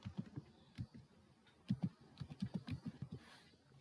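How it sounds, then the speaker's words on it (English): Typing on a computer keyboard at a desk: a quick run of soft, close key clicks in an uneven rhythm with brief pauses, fairly quiet and with no talking. "let me type there and type here localhost"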